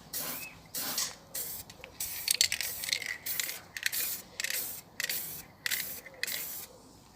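Short hissing bursts of clear coat spraying from a can onto a small wooden turtle, about a dozen evenly spaced puffs, close and fairly quiet, with no talking.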